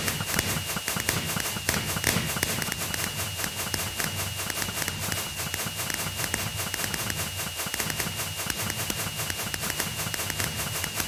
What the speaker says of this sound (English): those fireworks are so pretty!